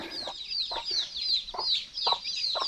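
Chickens cluck in short repeated bursts while high-pitched chick peeps chirp continuously, fairly soft and close.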